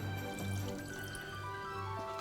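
Water being poured into a pot for a Swedish oyster stew, a soft continuous liquid trickle and dribble with faint drips throughout, close and fairly quiet, no talking.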